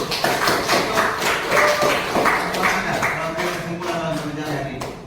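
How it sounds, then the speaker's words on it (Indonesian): Students in a classroom clap their hands together, a brief burst of fairly close clapping mixed with murmuring voices and some sung or spoken tones. "tepuk tangan dulu"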